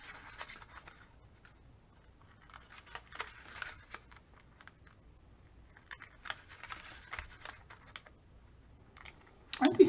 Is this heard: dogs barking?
no